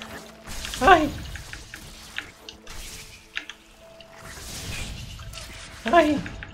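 Water in Ori and the Blind Forest gives two bright splashing surges, one early and one late, with quieter trickling between them over soft game music and occasional vocal sounds.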